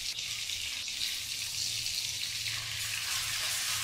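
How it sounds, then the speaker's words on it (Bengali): Onion-tomato paste fries with ginger and garlic in a pan, producing a continuous bright sizzle with a low steady hum underneath and no voices. "এখন নেড়ে চেড়ে কিছুক্ষণ কষিয়ে নিব"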